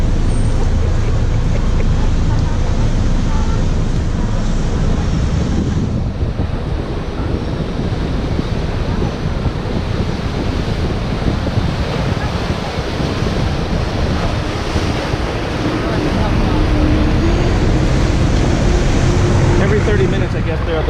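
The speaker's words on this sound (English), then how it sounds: "I'm on a boat." A boat runs on the Chao Phraya river in Bangkok, its broad engine and water rumble with rushing wind noise filling the whole stretch as a steady, loud wash, with voices faintly underneath.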